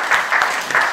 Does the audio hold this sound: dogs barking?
no